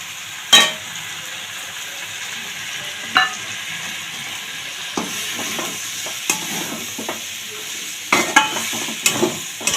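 Boiled chana dal being added to vegetables frying in a pan, with a steady soft sizzle and a scatter of sharp stirring clatters and scrapes, close by, no talking.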